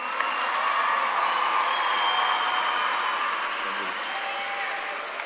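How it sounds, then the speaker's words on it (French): Audience applause for the makers of a mountain documentary at a film interview event, a steady wash of many hands clapping that holds evenly throughout. "Je crois qu'on peut les applaudir"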